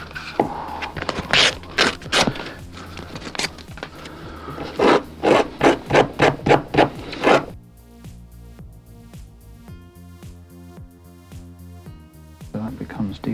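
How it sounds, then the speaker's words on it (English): The ends of a wooden combination-lock part are sanded by hand with sandpaper in a run of loud, close, rhythmic back-and-forth scraping strokes that stop halfway, leaving a quieter tonal background. "I need to sandpaper these ends down"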